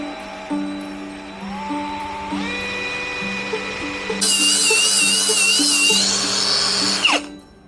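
A power drill bores a hole in the center of a wooden base, whining in several short bursts that rise in pitch and end in a louder sustained grind, close up and with no speech.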